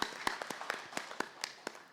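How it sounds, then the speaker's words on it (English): Applause from a conference audience at an agriculture dialogue, with sharp, scattered claps spaced irregularly at moderate distance rather than dense continuous clapping, over a faint room hum. "A round of applause"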